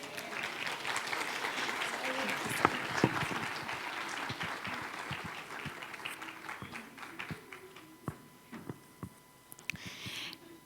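An audience in a church fills the space with sustained applause that gradually thins to scattered claps, while speech runs underneath.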